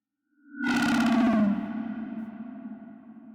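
Electric guitar played through an amp simulator speaker cabinet, a single heavily distorted chord struck and left ringing, with sustained feedback tones that slowly fade over a few seconds, heard alone.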